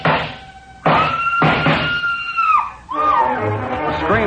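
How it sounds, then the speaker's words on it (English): A woman's high, frenzied scream in an old radio detective drama, coming in several long sustained bursts with brief breaks between them, loud and close, with no other voices. "The scream filled the house,"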